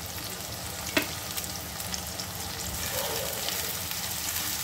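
Loitta (Bombay duck) fish pieces fry in a pan for a curry with eggplant, giving a steady close sizzle and crackle with one sharp tap near the start and no voices.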